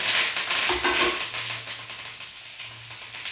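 Curry leaves crackle in hot tempering oil with cumin for a raw mango chutney, a dense, close, steady sizzle with faint stirring clinks and no voices.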